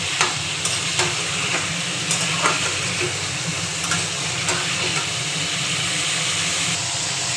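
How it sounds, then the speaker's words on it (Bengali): Meat seasoned with lemon and salt frying in oil in a wok, a steady close sizzle with occasional stirring clatters throughout, no talking. "আমাদের দেখুন মাংসটা হালকা করে ভেজে নিলাম।"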